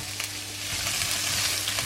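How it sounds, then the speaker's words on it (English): Onions fry in a hot pan, a dense, steady sizzle heard up close for a brief moment, with no other sounds over it. "I'll put my onions in and cook them down for a while."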